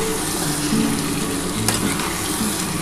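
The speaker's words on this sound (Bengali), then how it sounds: "দেখো খুব ভালোভাবে কিন্তু মশলাটা কষিয়ে নিতে হবে" Spice paste of onion, ginger and garlic fries in oil for a mutton and potato curry, with a steady close sizzle and occasional stirring scrapes throughout, and no one speaking.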